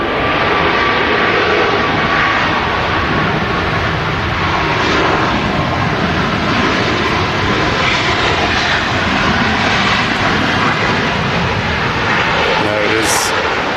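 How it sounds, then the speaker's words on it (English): A Ryanair Boeing 737 MAX jet rolls slowly at Manchester Airport, its engines giving a loud, continuous broadband roar and whine that fills the whole stretch, with a voice speaking over it. "Another Ryanair Max that just arrived as well."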